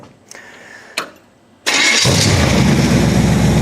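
A Chevy V8 in a casket car cranks with a couple of brief starter bursts, then catches and settles into a loud, steady, rumbling idle that continues to the end.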